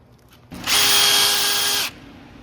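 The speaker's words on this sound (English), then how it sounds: "We're using this tool here. It's a stud cleaner with a Scotch lock, roll lock disc attachment." Stud cleaner tool fitted with a Scotch roll lock disc, cleaning a Pontiac Vibe/Toyota Matrix front brake hub: a single loud, steady high-pitched whir lasting just over a second, then stopping abruptly.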